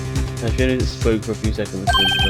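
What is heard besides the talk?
phone ringtone in the video game Phoenix Wright: Ace Attorney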